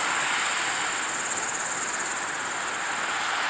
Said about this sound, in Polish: Słyszę bardzo dobrze świerszcze naokoło, naprawdę cudownie dzisiaj grają.